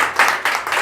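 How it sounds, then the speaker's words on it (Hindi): A small audience at a product demonstration gives a short round of clapping, three or four quick bright bursts of hands close by, with no talking over it. "तो जोरदार तालियां बनती"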